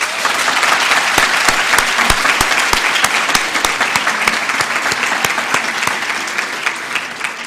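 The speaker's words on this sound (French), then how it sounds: "madame Le Labourier Fleury-Legros, qu'on peut applaudir" An audience at a 2022 finale ceremony applauds the project tutor, a dense, steady wash of clapping with sharp individual claps standing out, loud and sustained throughout.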